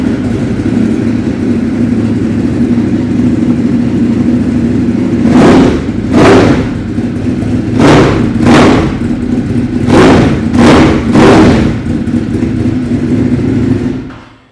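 A Ducati Monster fitted with a Termignoni exhaust revs hard, its engine idling loudly before a series of about six sharp throttle blips in quick pairs, then the sound cuts off.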